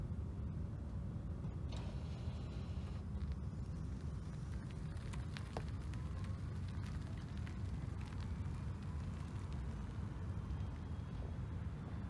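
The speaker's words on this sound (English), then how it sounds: "when you just accelerate sort of from zero on just pure electric power" 2020 Toyota C-HR Hybrid pulling away from a standstill on pure electric power, heard from the cabin as a steady, low, muffled road and drivetrain rumble with no engine note rising and no voices.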